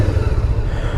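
A 2016 Honda CBR500R motorcycle engine idles with a steady, deep, throbbing low rumble close by, even and unbroken throughout.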